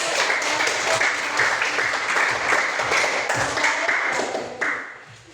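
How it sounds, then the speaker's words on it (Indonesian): A classroom group claps together in sustained, dense applause that carries steadily for several seconds before thinning toward the end. "Iya, kita berikan aplaus"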